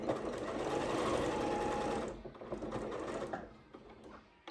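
A domestic sewing machine stitches steadily in reverse, a close, even mechanical whirr that runs for about two seconds, then continues in lighter, uneven bursts before stopping.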